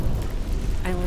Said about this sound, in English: It's raining and I'm not getting wet at all.